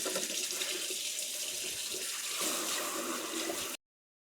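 Tap water runs steadily over seeds in a colander, rinsing away gel in a broad, splashing rush that stops abruptly.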